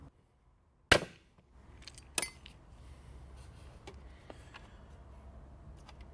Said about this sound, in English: so exploding rivets